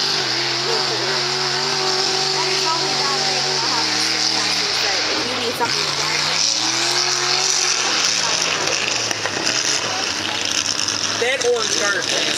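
A car engine revs and shifts through gears under continuous driving noise, with voices talking over it.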